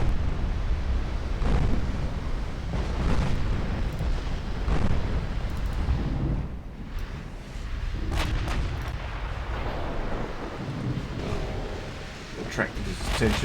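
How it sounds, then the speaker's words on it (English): Warship main guns fire shells in the naval video game Ultimate Admiral Dreadnoughts, a continuous barrage of heavy booming salvos over a deep rumbling backdrop, loud and close throughout. "My ships are doing that really annoying thing where they fire like half their guns."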